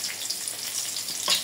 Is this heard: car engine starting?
no